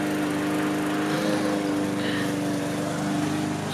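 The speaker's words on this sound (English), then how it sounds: "Dad's a mowing." A lawn mower runs steadily at a short distance, its engine droning in a constant, even hum with no pauses or talk over it.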